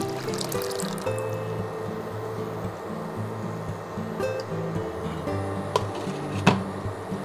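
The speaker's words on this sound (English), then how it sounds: "Add enough water for the gravy." Water pours steadily into a pan of cooking masala gravy, a continuous trickling and filling sound with a few small clinks, steady and fairly close.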